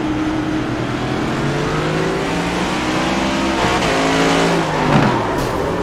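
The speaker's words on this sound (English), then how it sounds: "These drivers are pulling that upshift, and when they do, the car comes around." Onboard race car engine in an Area 51 Racing League NextGen Series race, a loud continuous roar rising in pitch through the gears with upshifts, close and alone without talk.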